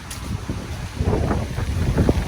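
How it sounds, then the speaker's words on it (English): Strong Hurricane Helene winds buffet the microphone in steady low rumbling gusts that swell louder partway through, with no voices. "it's super windy"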